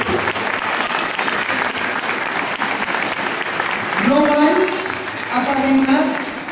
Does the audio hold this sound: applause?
yes